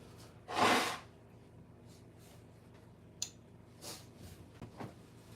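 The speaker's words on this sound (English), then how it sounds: "actually I need to blow my nose" A person blows their nose in one loud, breathy, close burst, followed by a few fainter sniffs and snorts in a quiet room.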